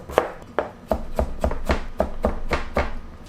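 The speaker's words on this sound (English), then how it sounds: "Cut the ginger into fine pieces." A knife chops ginger into fine pieces on a board while stuffed mushrooms with chicken and vegetables are prepared, giving about a dozen crisp, evenly spaced chops in a steady rhythm, close and clear.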